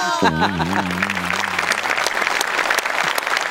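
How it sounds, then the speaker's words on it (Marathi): A studio audience at a Marathi comedy show applauds loudly in a steady wash of clapping that lasts a few seconds, while a voice briefly speaks over its start. "साहेबांसाठी जोरदार टाळ्या होऊन जाऊ देत"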